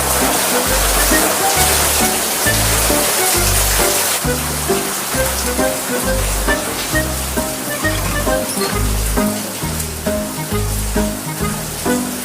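Heavy rain pours steadily in a broad, loud hiss, with a deep, rhythmic low thumping running beneath it throughout.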